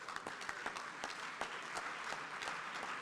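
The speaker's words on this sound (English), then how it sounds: "Please, with a round of applause, make welcome" Audience applause welcoming the Chief of Staff of Ghana onstage at an African inter-parliamentary conference on family and values, a steady dense patter of many hands clapping for about three seconds with no talk over it.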